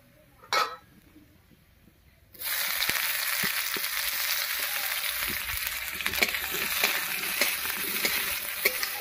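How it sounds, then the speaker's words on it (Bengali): Chopped onions drop into hot mustard oil tempered with dried red chilli and black cumin, erupting into a loud, steady sizzle after a brief clatter, with faint scraping stirs. "ফোড়নটা ভাজা হয়ে গেছে, এবার এর মধ্যে দেবো পেঁয়াজ কুচি।"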